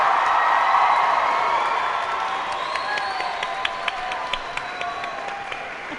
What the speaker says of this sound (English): How about another round of applause for the class of 2014?